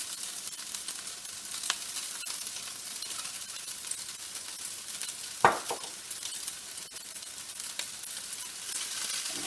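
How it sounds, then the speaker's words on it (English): Noodles and cabbage being stir-fried in a pan, a constant soft sizzle with a sharp clatter of the utensil against the pan midway and a few lighter scrapes. "Now I'm going to add noodles."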